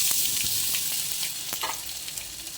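Potato pieces fry in hot oil with popped mustard seeds and cumin for bun dosa filling, giving a steady, bright sizzle with a few spoon scrapes and clinks close by, no talking.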